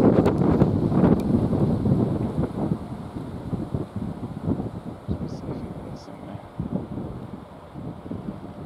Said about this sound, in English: the wind is pretty horrific